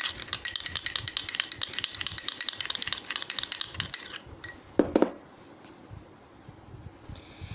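Rose gel and homemade potato serum being stirred in a small container, a rapid run of light clinks and rattles against the sides, close and steady, then slowing to a few scattered taps near the end.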